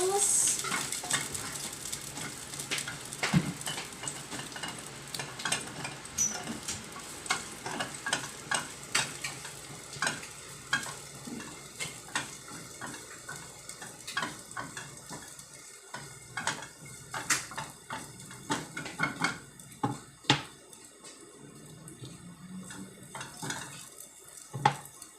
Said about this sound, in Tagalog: So, nasuti, nagisa na to ang atong ahos.